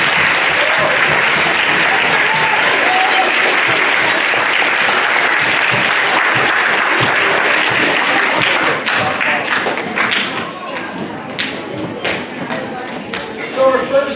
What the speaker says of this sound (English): will you please support them with some applause for being good leaders?